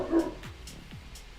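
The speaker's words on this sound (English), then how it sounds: "That's my dog, sorry." A pet dog indoors gives a few short, fairly faint yips and whimpering barks in quick succession, heard at a moderate distance with no talk over it.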